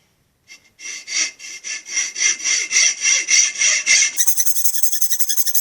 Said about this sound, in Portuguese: Virar a serra no arco e cortar.